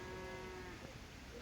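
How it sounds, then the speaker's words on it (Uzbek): A dairy cow on a farm gives one drawn-out low moo, quiet and brief against faint background noise. "Mana sigirimiz."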